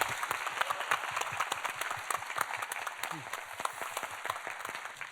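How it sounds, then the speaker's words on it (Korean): Applause from a church congregation, a dense patter of clapping that stays steady for several seconds, moderately loud and slightly distant. "큰 박수로 맞아주세요."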